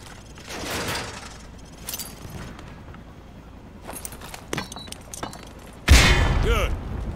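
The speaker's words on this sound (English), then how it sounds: "Toss the grenade down the range to take out several targets at once." Frag grenades exploding down a shooting range in Modern Warfare 2, a few muffled booms and rattling debris spread across the moment, with one loud, close blast near the end; a voice may be faintly present.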